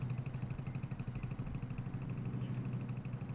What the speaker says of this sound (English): That is a loud little tractor.